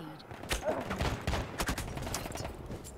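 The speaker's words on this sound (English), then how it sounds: "People are shooting at me." Gunfire aimed at the player in Battlefield 1 crackles in irregular bursts of sharp shots and rattling volleys, mid-distance and fairly loud, with scattered reports continuing across the whole stretch.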